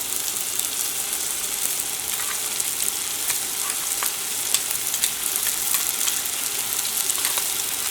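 Ginger-garlic paste fries in a pan for a homestyle chicken roast, a steady dense sizzle that stays loud the whole time, with faint scraping ticks of stirring through it.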